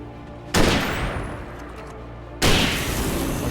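Two heavy hunting-rifle shots in the Alan Wake video game, each a sharp loud blast followed by a long rolling boom that decays slowly, roughly two seconds apart.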